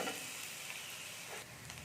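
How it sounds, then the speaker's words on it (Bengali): Onion frying in a pan for a potato wrap, a steady soft sizzle with some stirring, close and faint, with no talk. "এবার পেঁয়াজটাকে আমি একটু ভেজে নেবো"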